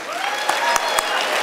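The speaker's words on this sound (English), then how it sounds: "Let's give him a round of applause, our #1 buck." An audience at a hunting club's buck pole party applauds, a thick steady wash of clapping at close range with a few sharper individual claps standing out and faint voices beneath.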